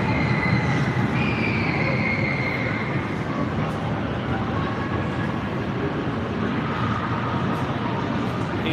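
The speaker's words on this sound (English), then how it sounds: "The train." Indoor amusement train ride at the Mall of America during Christmas, rumbling steadily with brief wheel squeals and a bright whine drifting over a constant crowd-filled hall din.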